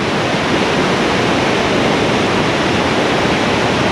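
Snowdonia river water pounds over boulders at a waterfall near Fairy Glen, a loud, unbroken roar of rushing water with no pauses.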